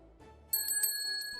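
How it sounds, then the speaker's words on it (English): A shop doorway bell chimes as someone enters a tannery, giving bright metallic rings that start after a soft bump and then fade, heard alone. "The bell chimes in the doorway as Skogul ducks his head to enter the Cold Hide Tannery."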